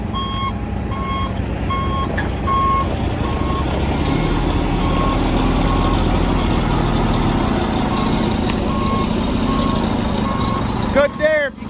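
Tractor working on a stone driveway entrance, its reversing alarm beeping in a steady regular rhythm over a loud, continuous diesel engine drone, with a voice briefly audible near the end.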